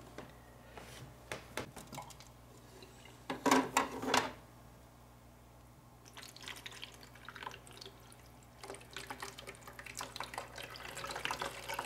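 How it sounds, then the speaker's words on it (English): Water poured into a Whisper EX45 aquarium filter to prime it, heard as soft splashing and trickling with a louder gush in the middle, then lighter dribbles and drips; quiet and close, no voices. "Well, I gotta prime it, put some water in there"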